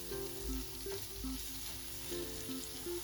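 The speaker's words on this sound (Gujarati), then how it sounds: "2 ઝીણી સમારેલી મીડિયમ સાઇઝની ડુંગળી લઈશું અને તેને સારી રીતે સાતળી લઈએ." Finely chopped medium onions and garlic sauté in a pan, giving a steady, dense sizzle that runs unbroken throughout, with a soft melody playing underneath.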